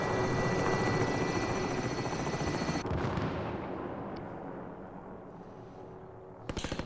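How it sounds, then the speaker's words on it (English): Helicopter in Call of Duty Plunder, a loud pulsing rotor chop overhead that gradually fades into the distance, with a brief burst of gunfire at the end. "the Kings are in the helicopter up there"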